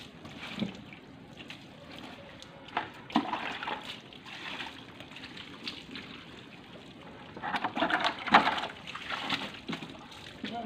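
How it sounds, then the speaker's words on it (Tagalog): Water is poured from a dipper while a motorcycle is washed, giving intermittent splashes and trickles at close range, some louder bursts of splatter standing out against quiet gaps. "Tabo-tabo lang tayo para tipid sa tubig."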